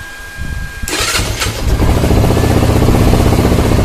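Benelli 150S motorcycle with an upgraded 34 mm throttle body cranks and fires up, a short starter burst catching into a loud, close, steady idle.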